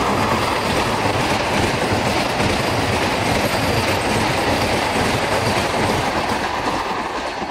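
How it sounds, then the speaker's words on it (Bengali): The Howrah–Patna Vande Bharat Express rushes past close by, a loud continuous roar of wheels and carriages with rhythmic clatter and faint squeal, no voices. "পাশ দিয়ে যাচ্ছে হচ্ছে হাওড়া পাটনা বন্দে ভারত এক্সপ্রেস"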